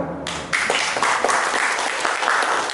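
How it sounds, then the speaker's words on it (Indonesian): Short burst of audience clapping at a Padang city economic development forum, loud and dense, starting abruptly and continuing steadily for a few seconds. "Tepuk tangan Mas."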